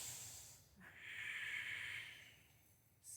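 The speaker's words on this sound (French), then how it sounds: "Ça, c'est une respiration victorieuse." Ujjayi yoga breathing, air rubbing softly in the throat, heard as one close, hissing exhalation lasting about a second and a half, with a short sniff before it and a brief intake at the end.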